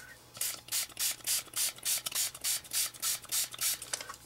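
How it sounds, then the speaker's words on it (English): Water misted from a spray bottle onto paper in a run of about eleven quick, evenly spaced spritzes, close and fairly soft, with no talking. "I'm gonna spray it with some water."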